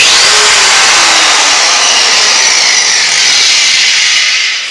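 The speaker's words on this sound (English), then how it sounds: "Here we have an angle grinder. This is used for cutting through welds and doing body work." An angle grinder used for cutting welds and bodywork on a car restoration runs loud and close, a continuous high whining roar that holds steady before tapering slightly at the end.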